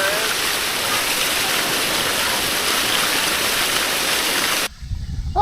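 Water gushes hard and steadily from a fire hydrant being replaced, a loud broadband rushing roar that stops abruptly near the end, leaving quieter splashing and handling noise.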